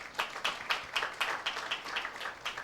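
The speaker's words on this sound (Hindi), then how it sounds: "आप अपने लिए ताली बजा सकते हैं।" A church congregation claps in a brisk, even rhythm of about ten claps, moderately near, with no talking over it.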